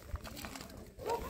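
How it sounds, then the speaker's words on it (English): A pet pigeon cooing softly indoors, a faint low coo rising near the end over quiet background room noise. "then I have a pigeon over here"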